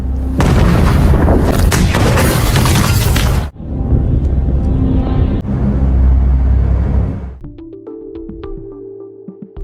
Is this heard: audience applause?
no